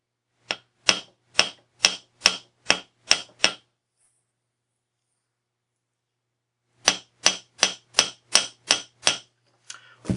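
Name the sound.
tapping silver wire on anvil with hammer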